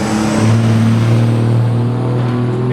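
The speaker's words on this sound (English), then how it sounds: "Big trucks, loud." Big trucks roar past on a road near a bridge, a loud continuous low engine drone filling the whole stretch without any voices.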